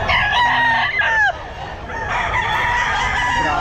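A Boston Sweater gamefowl rooster crows at a pet market, a loud, close, drawn-out call with other fowl clucking and crowing in the busy background.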